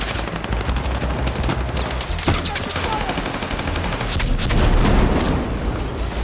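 Rapid gunfire in the Battlefield 6 video game, dense bursts of repeated shots over a loud, busy battle din that continues throughout and swells near the end.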